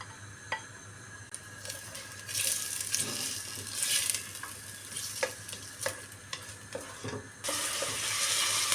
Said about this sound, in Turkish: soğanla sarımsak hafif sararana kadar kavuruyoruz